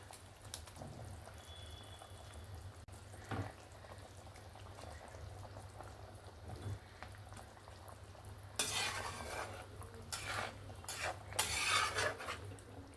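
A pan of gravy bubbles steadily at a low simmer as chela fish and eggplant pieces go in, followed by louder bursts of stirring and scraping with a utensil against the pan near the end.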